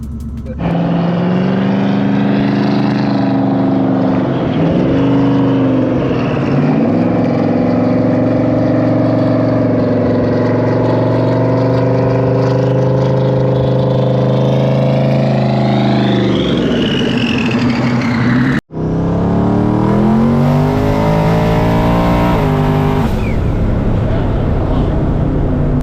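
A twin-turbo Coyote-swapped Fox body Mustang's engine roars and climbs in pitch as it accelerates hard on the street, with a brief cut near the end before the loud revving resumes.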